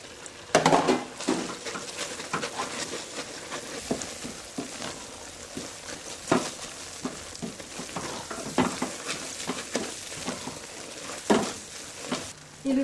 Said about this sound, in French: je coupe mon feu et j'ajoute mes amandes